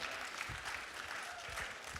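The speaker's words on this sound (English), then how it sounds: "big round of applause to all of your generous donors" Gala audience applauding donors, a brief, fairly faint burst of clapping from a crowd in a hall.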